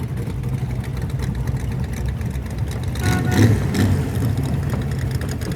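A modified Ford Ranger pickup idles with a steady low engine rumble that swells slightly for a moment partway through, with no talking over it.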